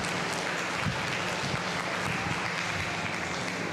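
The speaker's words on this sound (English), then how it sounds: "Can we give them one more big round of applause?" Audience at an elders and youth conference applauds the Good News Dance Group, a steady, dense wash of clapping filling the room throughout without pause.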